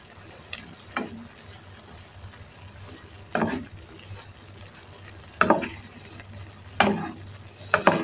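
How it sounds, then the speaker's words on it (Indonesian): Enoki mushrooms and shrimp in oyster sauce with spring onion stirred in a pan: a low steady sizzle broken by four or five distinct scraping strokes of a spatula, close and moderately quiet, no talking. "Lalu kita aduk ya, biar bumbunya tercampur rata."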